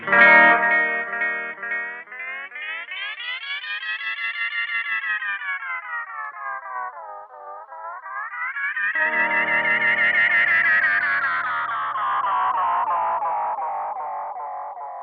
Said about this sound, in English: when you hold down the tap switch, it speeds up like the tape